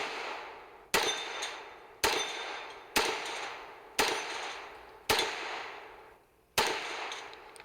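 Pistol shots ring out at a 2 Gun Challenge shooting match in Topton in 2024, fired at falling steel plates. Seven sharp reports come at roughly one-second intervals, each with a fading metallic ring.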